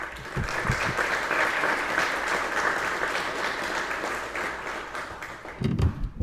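Audience applause at a Border Patrol Academy graduation ceremony: steady, dense clapping from a large crowd that holds for several seconds with a few louder close claps near the start and end, with no talk.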